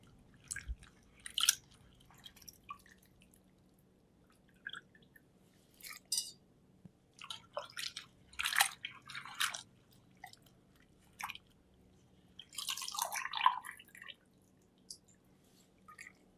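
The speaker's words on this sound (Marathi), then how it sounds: "आता आमके हे बटाटे अशकन धुवून घेऊ ते दुसरे तोपा घालून घेऊ जाय" Potatoes sloshed and rubbed by hand in a pot of water, scattered splashes and wet clatters in irregular short bursts, close and fairly quiet against a still background.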